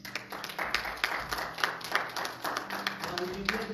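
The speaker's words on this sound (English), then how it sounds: "Can you give God a hand clap of praise?" A church congregation gives a hand clap of praise during a Sunday morning worship service, many hands clapping in a fairly regular rhythm, moderately loud and close, with organ tones sustained underneath.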